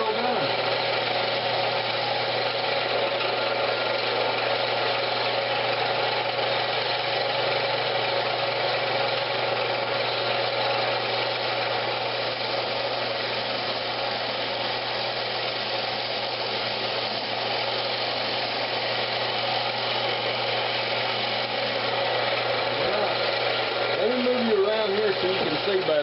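A wood lathe turns a boiled walnut bowl while a tool cuts off its tenon, a steady loud motor drone with scraping texture throughout, a voice speaking over it near the end.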